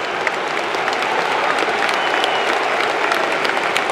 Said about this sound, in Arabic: مع تحية الجماهير لنزول بيكي